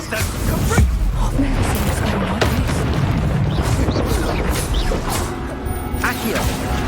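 Repeated explosions from the Confringo fire spell in the video game Hogwarts Legacy, heavy booming blasts and crashing impacts layered with clattering debris, loud and continuous throughout.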